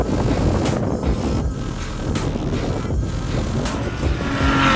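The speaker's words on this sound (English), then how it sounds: "There goes our Levante." Maserati Levante driving past on a snowy track, a roaring engine and rushing noise close to the microphone with buffeting wind and short bursts of spray.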